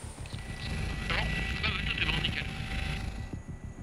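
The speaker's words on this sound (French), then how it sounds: "Dragon 63, l'hélicoptère de la sécurité civile, décolle direction la Creuse" A civil security rescue helicopter lifts off. Its rotor and turbine roar steadily up close, and a voice speaks over the engine noise.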